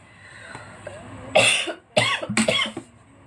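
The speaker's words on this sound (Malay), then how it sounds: "tiba-tiba rasa macam batuk datang balik" A teacher coughs several times during a live online lesson, three loud harsh bursts close to the microphone with brief pauses between them, and no talking.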